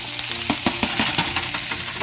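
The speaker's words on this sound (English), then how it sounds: "Okay, and just saute that all" Squash and onions with olive spread sizzle loudly in a pan while a utensil stirs and scrapes in a quick, irregular rhythm, close and without talk.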